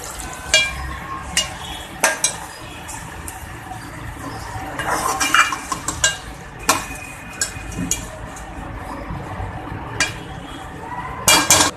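Fish curry ladled out of a pot, with scattered metal clinks and scrapes of utensils against the vessel, close by, irregular and intermittent over a low background.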